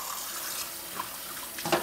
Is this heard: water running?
yes